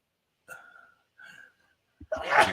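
A man sneezes: two soft breathy intakes build up, then a sharp, loud burst at the end.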